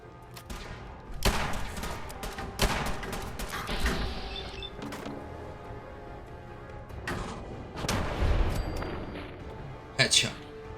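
Fallout 4 gunfire: sharp single shots spread irregularly over the stretch, some loud and close, several echoing, mixed with game ambience and a person talking between shots.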